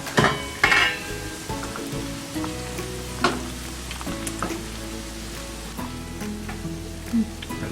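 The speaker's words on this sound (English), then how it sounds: "I'm going to add the ground beef to our sauce, which is still simmering in the pot." Ground beef tipped into a pot of simmering Italian meat and tomato sauce, a loud sizzle and splatter near the start, then steady bubbling and frying hiss with a few clinks of a utensil against the pot.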